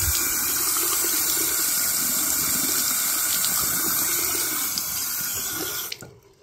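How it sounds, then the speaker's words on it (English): Water runs steadily from underneath a faulty sink faucet, a strong close hiss and splash that carries on without a break and then cuts off abruptly near the end. "The faucet's bad. You see the water coming out from underneath it?"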